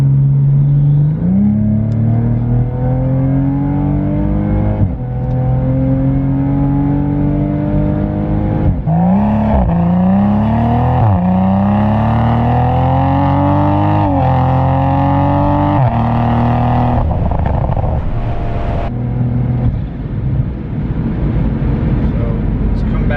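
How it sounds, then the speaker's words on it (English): A Toyota Supra's dual cat-back exhaust drones loudly as the engine revs up through several gears, pitch climbing and dropping with each shift, steady and close. "let's just kind of listen to the exhaust a little bit"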